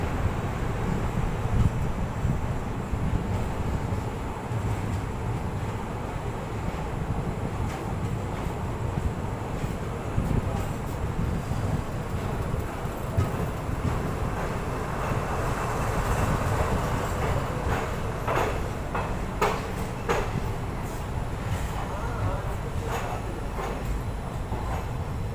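The 19718 Sabarmati Express runs on a broad gauge line toward Rajasthan, a continuous rumbling roar of the moving train with rhythmic clatter from the rails in the later part.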